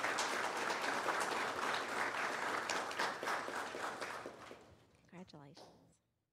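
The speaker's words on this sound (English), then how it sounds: "Let's give them a round of applause." A room at a county board meeting breaks into a round of applause that stays dense for about four seconds, then tapers off into scattered claps, with a voice speaking briefly as it fades.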